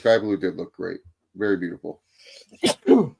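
A single sharp sneeze bursts out near the end, close and loud, following a stretch of ongoing conversational speech from a wrestling review.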